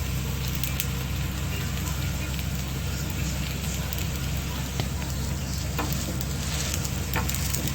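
Dough for a light homemade pizza sizzles and fries steadily in a pan, a dense continuous crackle close to the microphone with no break throughout.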